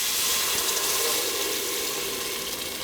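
Garlic sizzling in a pan over medium heat while being stirred, a steady loud hiss throughout with faint scraping underneath.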